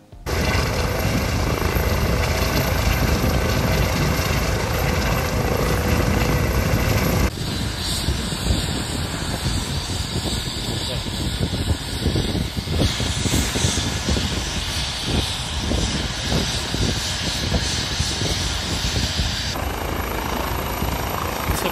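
A helicopter flies over a mountain hiking trail during a rescue, its steady loud rotor and engine drone continuing throughout, with a few shifts in tone and no speech.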